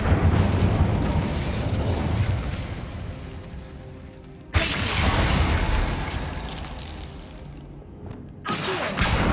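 An Incendio fire spell from Hogwarts Legacy bursts with a loud whooshing blast, then another abrupt burst follows midway, each roaring and slowly fading amid dense game noise, with a third short burst near the end.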